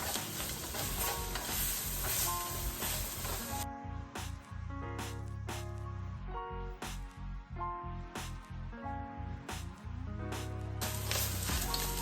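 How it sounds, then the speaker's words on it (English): Vegetables and flour stirred in a frying pan for smothered pork chops, a steady sizzle with repeated spatula scrapes back and forth; background music runs throughout, and the sizzle is loudest at the start and end. "So you wanna constantly go back and forth, stirring the veggies around"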